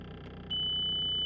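The faulty fuel lift pump of a VW Golf MK4 starts up with a thin, steady high-pitched whine over a low background hum, faint and sustained after a short quiet moment.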